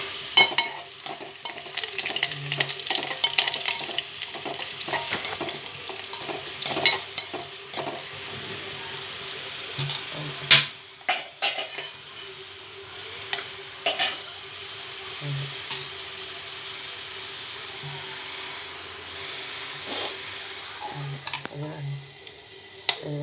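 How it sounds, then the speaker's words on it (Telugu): Tempering spices frying in a pan for a Telugu buttermilk stew, a steady soft sizzle with scattered crackles and pops, occasional clinks of a utensil against the pan throughout. "తాలింపు కాలుతుంది వేగుతుంది"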